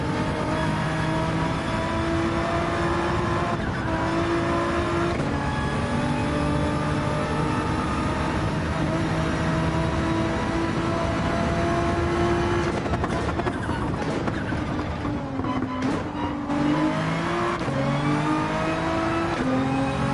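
Race car engine in Gran Turismo 7 revving and shifting through gears, a loud continuous droning roar with rising and falling pitch, occasional gear changes, no voices.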